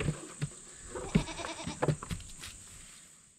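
Goats bleating on a homestead during scur removal, several short close calls scattered over a steady background hum, with brief rustling between them.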